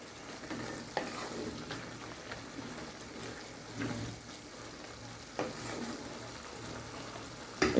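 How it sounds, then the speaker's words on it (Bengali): Spinach fries in a pan while being stirred, a low steady sizzle with occasional soft scrapes and clinks of the utensil, quiet and close, with no talk. "ঢাকনাটা উঠিয়ে শাকটা একটু নাড়া দিয়ে নেব"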